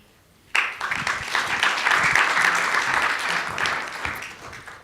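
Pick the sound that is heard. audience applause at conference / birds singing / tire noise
audience applause at conference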